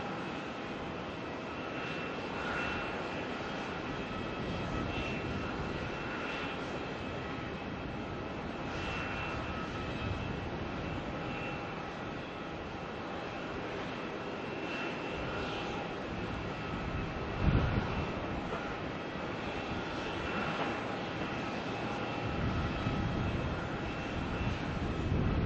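Continuous broadband roar of jet airliner engines on the runway at Melbourne airport, heard at a distance as a steady rumble that holds throughout with slight swells and no talk.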